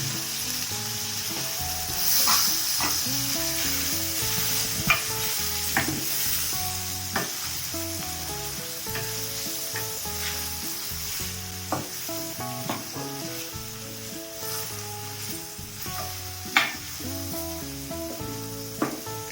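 Ground masala paste for a chickpea and brinjal kurma frying over high flame in a pan, steady close sizzle throughout with repeated scraping and stirring strokes of a spoon against the pan.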